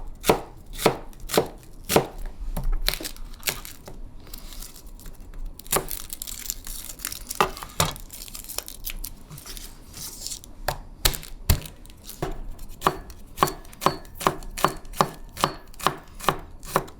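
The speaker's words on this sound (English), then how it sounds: "I'm gonna go ahead and slice this and chop those" Knife chopping spinach and herbs for Persian ash reshteh noodle soup on a cutting board, a steady run of close, crisp chops with brief pauses and some rustling of leaves.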